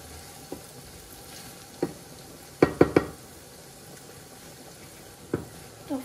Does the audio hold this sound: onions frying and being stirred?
yes